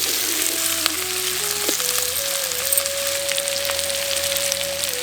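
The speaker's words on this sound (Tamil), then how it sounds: "3 பச்சை மிளகாய், துண்டு துண்டா நறுக்கி வச்சிருக்க தக்காளி ரெண்டையும் சேர்த்து நல்லா வணக்க ஆரம்பிச்சிடலாம்" Green chillies and chopped tomatoes frying in a pan for a village-style radish chutney, a steady close crackling sizzle with no talking, a faint tonal hum running through it.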